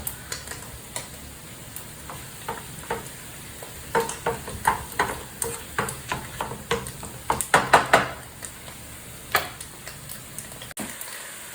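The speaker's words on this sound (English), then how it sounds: "all you want to do is just let these sizzle for a little bit" Crepes crackle and sizzle in a frying pan, with scattered pops and clicks and the occasional clatter of a utensil, close by.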